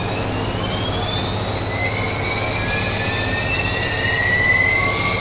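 Jetstream 41 turboprop engine spooling up during start in a PMDG flight simulator, a steady loud whine with rising tones over a constant low hum.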